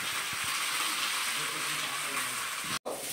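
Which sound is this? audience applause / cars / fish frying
fish frying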